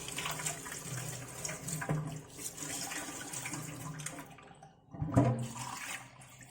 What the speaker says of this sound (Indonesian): Cuci, kita bilas dengan air minum, air masak.